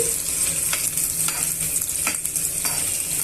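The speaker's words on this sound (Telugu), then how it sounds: "ఉల్లిపాయ ముక్కలు పచ్చిమిరపకాయ ముక్కలు బాగా వేయించుకోవాలి దోరగా వేయించుకోవాలండి" Onion and green chili pieces frying in a pan, a steady hissing sizzle broken by several brief scraping strokes of a spatula stirring, heard close and alone.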